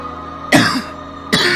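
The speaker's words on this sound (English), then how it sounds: "I'll probably cough some more" Two short, harsh coughs, the first stronger and drawn out, the second following after a brief pause, close to the mic.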